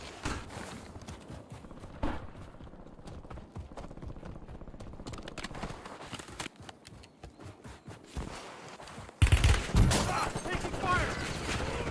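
Gunfire in Call of Duty: Warzone, with scattered rapid shots and clattering footsteps, then a loud close burst near the end; muffled voices run underneath.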